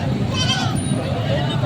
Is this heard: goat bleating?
yes